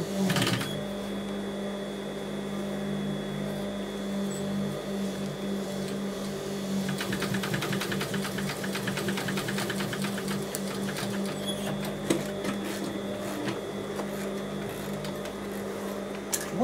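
A sewing machine stitches pieces of natural leather, running steadily as a close, continuous mechanical hum with a rapid needle rattle that quickens midway, with no talk over it.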